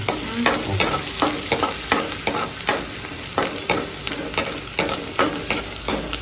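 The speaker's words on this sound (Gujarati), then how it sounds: "જો મિત્રો ડુંગળી આપણી સતલાઈ ગઈ છે" Chopped onions sizzle steadily in a hot pan for upma as a spoon stirs them in a regular rhythm of scraping strokes, loud and close, with no talking.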